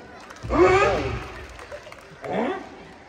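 Audience at a Marathi Home Minister Khel Paithanicha comedy game show in Pune's Dhole Patil Road area bursts into applause, a loud swell that fades, then a second shorter round follows.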